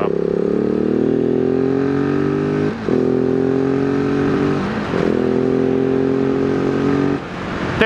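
A 2018 Husqvarna 701 SM single-cylinder motorcycle accelerating hard, its engine note climbing steadily through each gear, broken by three brief dips at the shifts. Loud and close, with no talking.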